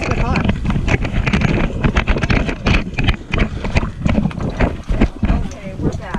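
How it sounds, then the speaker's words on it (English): Strong wind buffets the microphone outdoors at a camp, a heavy, uneven rumbling roar that gusts throughout, with voices talking underneath. "It's really windy."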